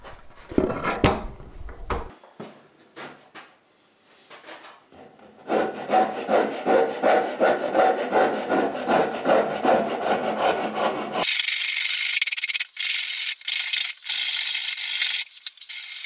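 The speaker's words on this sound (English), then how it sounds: "just use the saw rasp to put that radius in manually." A saw rasp files a radius into wood clamped in a vise, with repeated close, loud rasping strokes in a steady rhythm, pauses between bursts and a harsher stretch toward the end.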